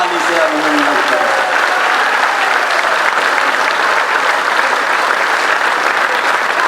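Loud, sustained applause from a large crowd at the Chhattisgarhiya Kranti Sena Hareli rally in 2023, a dense, steady wash of clapping that fills the whole stretch without pause.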